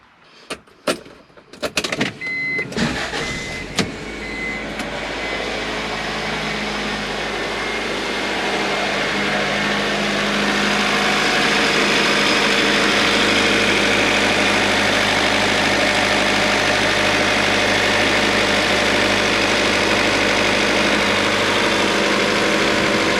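An Acura car's engine cranks with a few sharp starter bursts, then catches and settles into a steady, close idle right after a new belt replacement, with no voices.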